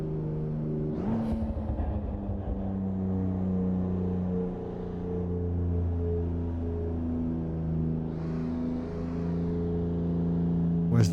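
Cars drive in the No Hesi racing game with a loud, steady engine drone and sustained tonal hum, rising in a rev near the start and again toward the end, close and continuous with no talk.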